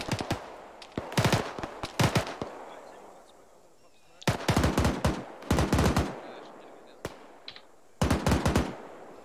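Gunfire in a military video game, rapid bursts of close automatic shots in several rattling volleys separated by short pauses, with faint voices in between.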